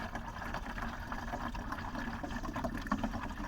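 Water runs steadily into a big green plastic jug, a continuous hissing, bubbling fill at moderate loudness with small gurgles and a slight bump near the end, no voices over it.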